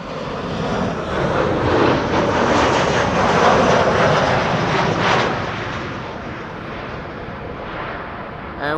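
A Boeing 747 at Amsterdam Schiphol Airport on a sunny day, its engines a broad, loud roar that swells over the first five seconds, then eases to a steady, softer rumble.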